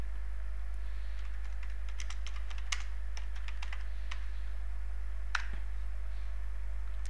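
Steady run of light keystroke clicks on a computer keyboard while a command is entered on a Raspberry Pi 3 B Plus, with a sharper key tap near the end, close and fairly quiet over a constant low hum.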